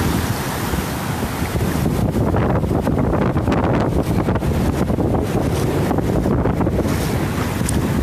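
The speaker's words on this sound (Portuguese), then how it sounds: "Olha aí como é que tá o mar." Sea waves roll and wind buffets the microphone at Cassino beach, a loud, continuous wash of surf and gusting noise with no voices.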